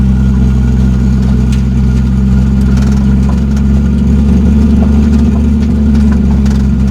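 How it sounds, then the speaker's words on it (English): A 1987 Toyota Supra with a swapped naturally aspirated 2JZ-GE engine drones loudly and steadily from close inside the car, a deep continuous rumble with slight rises in revs and no talk over it. "there's certain points where this car is really loud"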